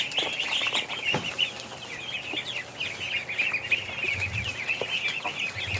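Young Muscovy ducklings in a yard, a continuous stream of high, thin peeping calls from several birds close by, with a few soft knocks and rustles, no talking.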